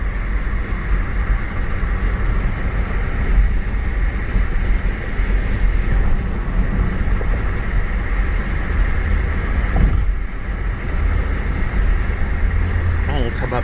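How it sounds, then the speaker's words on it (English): Saab 9-3 Sport Combi wagon with a turbo spooling on the move, a steady loud engine and road drone filling the whole stretch with a brief high whistle near the end. "That turbo spool. She's got that nice little spool."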